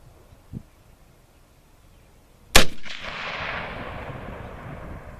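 A single sharp shot from a Lee Enfield SMLE No1 Mk 3 bolt-action rifle cracks loudly, followed by a long rolling echo that fades out; a faint tap sounds earlier in the quiet.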